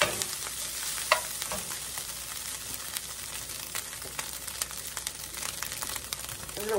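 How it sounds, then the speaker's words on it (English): Ground beef and onions frying in a sprayed pan, a steady close crackling sizzle with scattered sharp pops and occasional stirring scrapes, no voices. "my meat and onions is browned good enough"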